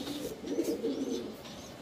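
A pigeon gives a short, low, rolling coo, close and clear, lasting under two seconds.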